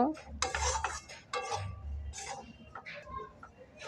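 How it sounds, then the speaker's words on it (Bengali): Spices and besan being mixed in a pot over low heat, with Kashmiri chilli powder added: close clinking and scraping of a spoon against metal in short irregular bursts, fairly quiet, no voices. "ভালো করে সব একসঙ্গে মিশিয়ে নেব।"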